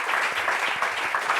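A small audience claps together in a dense, steady patter of many hands, continuous throughout and fairly close, with no voices over it.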